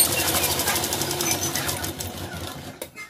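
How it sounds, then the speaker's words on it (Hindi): Domestic sewing machine stitching close along the edge of a 38-inch blouse, a steady rapid mechanical whir running continuously for about three seconds before easing off near the end. "बिल्कुल हमें किनारे पे सिलाई को चलाना है।"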